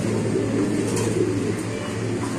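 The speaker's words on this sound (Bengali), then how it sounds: "কবুতরটা সরাসরি আপনাদের দেখাচ্ছি" White Bombay pigeons on a pigeon farm coo softly and repeatedly close by, a low, steady murmur of overlapping calls with no talk.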